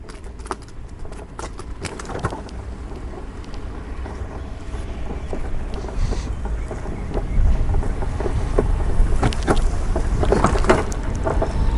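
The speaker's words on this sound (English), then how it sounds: "The noise you hear on the ground is a bunch of acorns on the ground right now all over the place." Steady rolling crackle and crunch as power chair wheels roll over acorns, with scattered sharp pops and snaps as they are crushed, continuous throughout with a low rumble.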